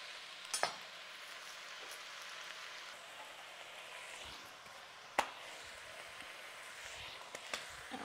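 A spoon stirs chicken stew in a pot, soft scraping and sizzling bubbling along steadily with a few sharp knocks against the pot.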